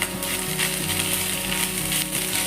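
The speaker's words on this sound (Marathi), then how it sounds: "खोबरं चांगलं परतून घ्यायचं." Grated coconut roasts in a pan over a low flame for a sweet modak filling, a steady dense sizzle and crackle filling the short stretch without pause.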